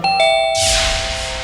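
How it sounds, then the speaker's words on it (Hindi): A doorbell chimes with a bright, sustained ding, followed by a rush of broadband noise as the tone rings on clearly and loudly. "फिर अचानक से घंटी बजी।"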